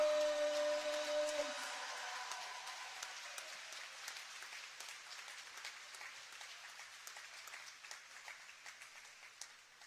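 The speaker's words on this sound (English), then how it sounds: "let's get on your feet and cheer these seniors on one last time." Crowd in a school gym at a senior night basketball ceremony, cheering and clapping steadily, loud at first and slowly fading over the full length, with a sustained tone at the start.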